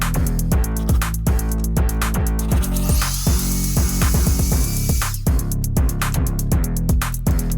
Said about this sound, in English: let's drill some holes in the boat, which is always fun.